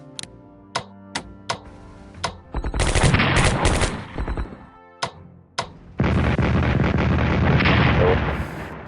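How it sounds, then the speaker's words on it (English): Defensive artillery in the Strategic Command WW2 war game begins as single sharp reports at spaced intervals. These build into loud, dense bursts of blasts and rapid fire, then a long sustained roar of explosions. No one speaks over it. "Oh, defensive artillery."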